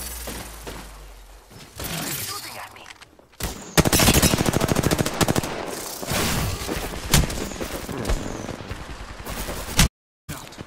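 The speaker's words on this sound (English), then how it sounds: "The enemies are shooting at me." Enemy gunfire erupts in a video game, with dense machine-gun bursts and scattered single shots, sharp cracks and a few booms. Shattering and mechanical clicks fall between the volleys, and there is a brief silent gap near the end.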